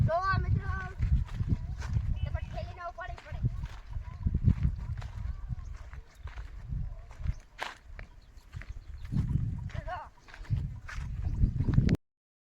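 A herd of goats walks in a line toward home, with steady trampling hooves and shuffling close by, a few faint bleats, and someone talking over the movement.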